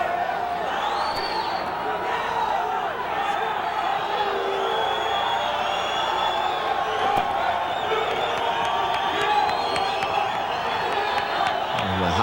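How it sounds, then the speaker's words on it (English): A crowd at an MMA fight cheers in a loud, sustained roar with whoops and scattered shouts, heard over a steady murmur. "The crowd now getting behind both these fighters."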